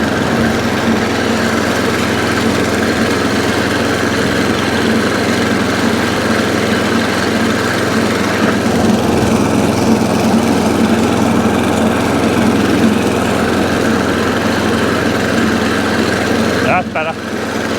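An ATCO Balmoral cylinder lawnmower's small engine runs steadily and loudly nearby with a constant drone, slight grinding from worn gear, and a brief knock near the end.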